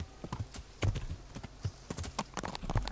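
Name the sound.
horse hooves galloping in video game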